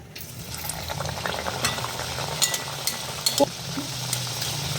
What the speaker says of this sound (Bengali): এবার আমি ডুবো তেলে ভাজবো। কড়াইতে আমি সাদা তেল দিয়ে দিয়েছি, তেলটা গরম হয়ে গেছে।